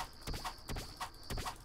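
Horse hooves clip-clop in the video game Cube World, a quick steady run of hollow knocks repeating about three times, close and clear over a thin ambient hum.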